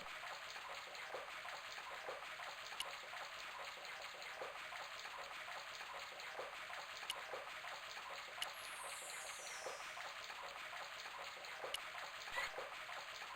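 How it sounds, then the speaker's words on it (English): A creaking, coughing faucet in the Broken Sword: Shadow of the Templars game spews a stream of rusty water, a steady hissing gush with a few faint clicks and drips, quiet and unbroken, with no speech. "The faucet creaked, coughed, and spewed out a stream of rusty-colored water."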